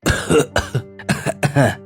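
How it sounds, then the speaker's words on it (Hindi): Several harsh, close coughs in quick succession from people in a smoke-filled house, in a cartoon, uneven bursts from one or more people with short gaps between them. "काले धुएं से परेशान होकर सभी खांसते हुए अपने कमरे से निकलकर बाहर आते हैं"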